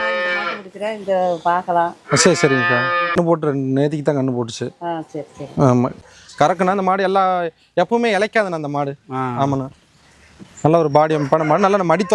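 High-yield dairy cows on a cow farm give a series of loud, close, drawn-out moos, several overlapping calls following one another with short pauses between them.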